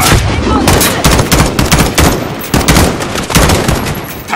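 Rapid sniper and rifle gunfire in the shooter game Call of Duty: Modern Warfare, a dense barrage of loud sharp cracks and booms with no pause.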